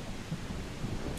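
Steady rain falls in the Project Zomboid video game, a brief continuous hiss of rainfall with a low rumble underneath.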